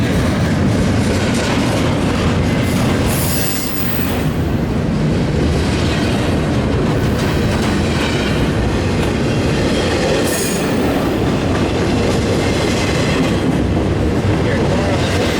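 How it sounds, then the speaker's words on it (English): A freight train rolls past on the tracks at Fullerton, a loud, sustained rumble of railcars with rhythmic wheel clatter and occasional squealing flanges, close by and steady throughout. "Yeah, his train is coming around here."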